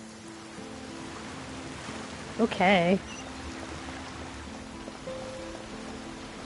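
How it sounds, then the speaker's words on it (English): Steady rain falling in the video game Genshin Impact, a constant soft wash of drops, with a brief spoken word and faint game tones over it. "it's raining."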